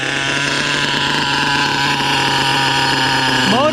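The small nitro engine of an HPI Savage RC truck, running very rich, buzzes loudly and continuously nearby, with a high droning whine that rises slightly in pitch at the end.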